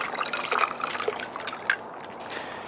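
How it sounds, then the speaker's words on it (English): Ice water pours into a brisket brine for pastrami, a light, splashy trickle with a few drips and plops, close and fairly quiet, with no talking. "Let's add our remaining ice water."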